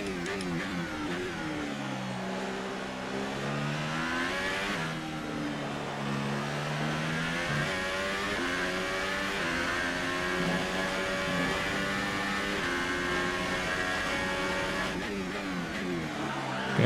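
A Formula 1 race car in F1 2018 drives laps, its engine whining loudly and steadily, climbing in pitch and dropping back at gear shifts, with no break in the sound.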